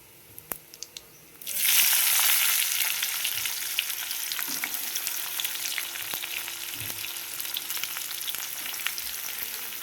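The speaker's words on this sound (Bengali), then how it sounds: "এর মধ্যে দিয়ে দেবো পেঁয়াজ কুচি" Chopped onion dropped into hot oil with whole chilies, bay leaves, cardamom and cumin seeds bursts into a loud sizzle after a quiet moment, then settles into a steady crackling fry with occasional stirring clicks.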